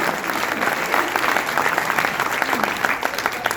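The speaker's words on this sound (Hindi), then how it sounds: "एकदम जोरदार तालियां" A crowd at a poetry recital applauds the poets with loud, sustained clapping that holds steady throughout, with no clear voices over it.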